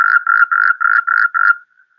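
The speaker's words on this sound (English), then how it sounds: "And this is a common toad." A common toad calling in a rapid series of six buzzy trills with short gaps between them, close and loud, then near silence.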